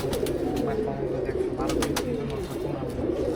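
Pigeons coo in a steady, overlapping chorus close by, low throaty calls repeating throughout, with brief chirps mixed in and a faint voice in the background.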